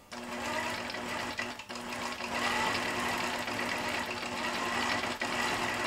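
A computerised embroidery sewing machine stitches around a candy cane and bow design, giving a steady, continuous mechanical whirr with a hum and a couple of brief dips, close and loud, with no talking.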